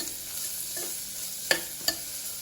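Whole spices with ginger-garlic paste fry in a pan for dill leaf pulao, giving a soft steady sizzle broken by two sharp stirring clinks near the end, with no talking.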